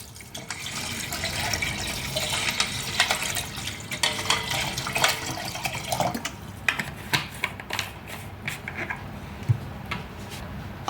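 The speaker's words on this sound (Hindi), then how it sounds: "अब इसमें हम डाल देंगे पानी।" Cold water streams and splashes steadily into a container for lemonade, with small clinks and drips toward the end.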